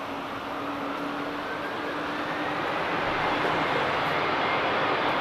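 An aircraft rolls for takeoff at Amsterdam Schiphol Airport, a broad steady engine roar that grows slightly louder and holds throughout, with no voices.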